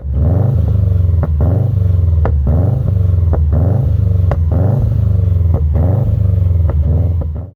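A Subaru Impreza WRX blobeye engine idles with a burbling rumble, then gets blipped into repeated sharp revs that rise and fall, loud and close, with no talking.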